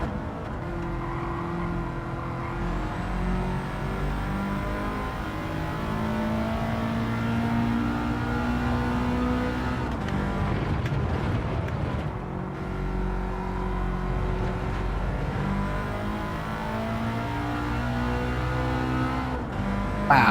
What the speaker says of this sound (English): Wow, this Scooby sounds so much nicer than the Mitzi. It's got a real raspy noise to the engine.